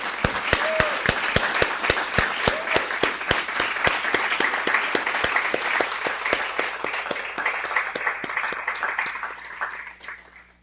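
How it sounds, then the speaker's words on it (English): Sustained audience applause fills a graduation ceremony for guide dog teams, dense steady clapping from a large crowd holding strong for about ten seconds before fading out at the end. "I want to give all of you a huge, huge round of applause."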